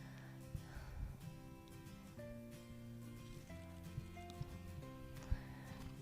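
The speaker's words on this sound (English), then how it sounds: "it's a young horse" A young, large horse neighs and whinnies amid steady clip-clopping hooves at a horse viewing day, the sounds fairly close and continuous over a low tonal background with occasional sharper knocks.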